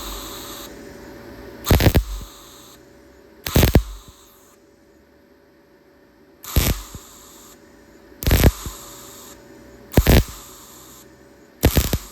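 Short bursts of MIG welding from a YesWelder MIG 250 Pro laying tack welds on rusty car fenders, five or six sharp crackling pulses of about a second each, separated by quiet pauses.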